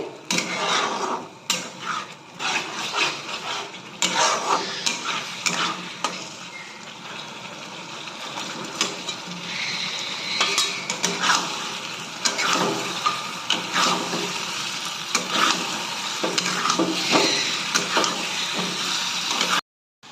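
Paneer chilli is stirred in a pan while cooking: a spoon scrapes and clatters against the pan in busy repeated strokes over a soft sizzle, loud and close throughout with no talking.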